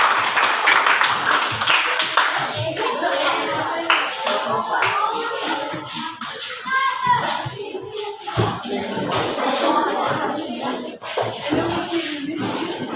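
Classroom audience clapping for a student group's presentation, a scattered, uneven patter of hands with some shuffling and children's voices mixed in, steady at moderate loudness throughout.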